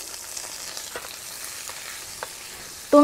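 Shallots, garlic and ginger sauté in a little leftover fish-frying oil in a pan, giving a steady close sizzle with small crackles and pops throughout, no voices.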